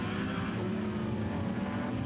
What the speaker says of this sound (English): As Aaron Harris blasts his way through traffic.